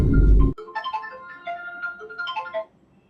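A phone plays a melodic ringtone for an incoming call, a bright run of repeating electronic tones lasting about two seconds after a short burst of noise at the start.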